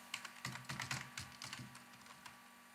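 Soft, quiet keystrokes as a password is typed on a computer keyboard, a short irregular run of clicks over a faint steady hum, with no talking.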